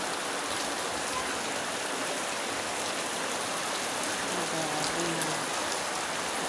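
Steady rain falls during a long spell of wet weather in Quezon City, a dense, even hiss of drops on surfaces with no break.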